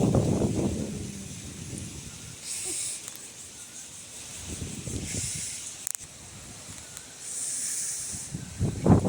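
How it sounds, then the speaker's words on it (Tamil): Wind and rain in a hillside setting make a faint, steady hiss with soft swells of gusting noise, with no talking. "காற்று மழை"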